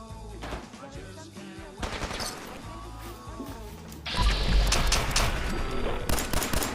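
Gunfire crackles through a Fallout 4 VR firefight in rapid automatic bursts, loud and close, and grows denser and heavier partway through.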